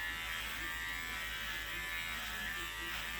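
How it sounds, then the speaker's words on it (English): Electric clippers shave a dog's tail, giving a steady, faint, continuous buzz with no pauses. "And yes, I even shave their tails."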